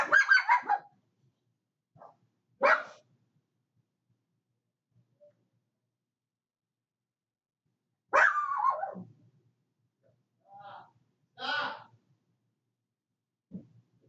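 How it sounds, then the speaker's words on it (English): Dogs bark in a few isolated, fairly close bursts separated by long quiet gaps, with soft breathing between them. "Let me go fucking silence these dogs."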